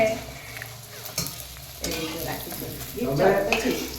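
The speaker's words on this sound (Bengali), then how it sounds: "এই দেখো রাখি এখানে লুচি ভাজছে" Oil sizzles and crackles steadily as luchi, Bengali puffed flatbread, deep-fries, growing busier toward the end, with occasional clinks of a utensil stirring in the pan.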